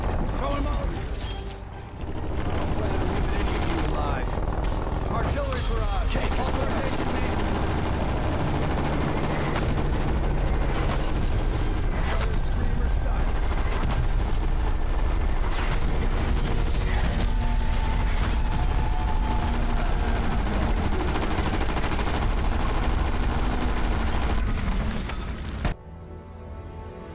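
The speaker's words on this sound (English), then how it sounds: "Artillery barrage." An artillery barrage in Call of Duty Cold War Zombies on Firebase Z pounds continuously for nearly half a minute, with dense overlapping blasts and gunfire in a loud roar before cutting off abruptly.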